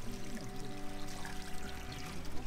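Spring water pours steadily out from under a hillside at a riverside camp along the Don, a continuous close rushing flow with no talk.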